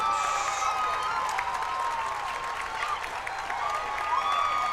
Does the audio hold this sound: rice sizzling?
no